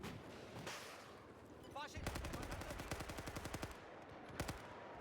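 Rapid automatic gunfire in Battlefield 4 multiplayer, a burst of closely spaced loud shots followed by a couple of isolated reports, over game ambience and a faint voice.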